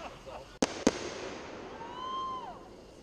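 July 4th fireworks firing: two sharp loud bangs in quick succession, followed by a rising whistling squeal trailing off, with people talking around them.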